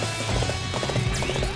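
Rapid clip-clop of horse hooves galloping in the Dynasty Warriors 8: Xtreme Legends video game, a steady fast rhythm that fills the whole short stretch, loud and close, with no talking.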